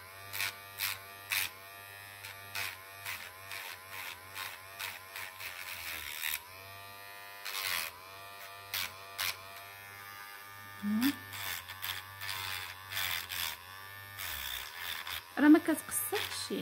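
Electric nail file filing fingernails during an at-home manicure, a steady buzzing motor hum with repeated short pulses as the file touches the nail, close and moderately loud, with someone talking over it at times.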